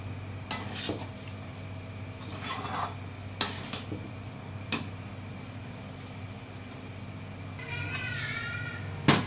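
A utensil stirs Maggi chowmein noodles in a pan, making sparse, faint metallic scrapes and clinks against a low steady hum, with no talking.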